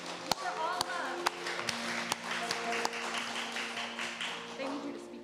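A congregation claps hands at a Unitarian Universalist Sunday service. Sharp, separate claps land at a steady, even pace over a low hum and soft room noise.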